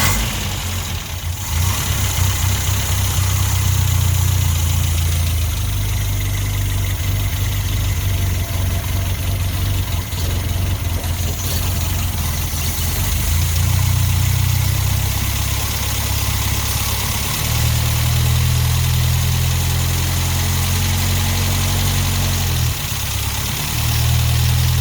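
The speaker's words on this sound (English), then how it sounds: "now we're going to fire it up for the first time to see how it goes and bed the cam in" A 1975 Holden TX Gemini Coupe engine fires for the first time on a freshly fitted cam and settles into a loud, steady, slightly lumpy idle that runs on alone, with small shifts in pitch.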